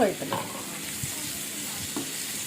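Sliced onion stirred in a pan with dried fish for a vendakka thakkali curry, a steady close sizzle broken by a few scraping stirs of the spoon, with no voices.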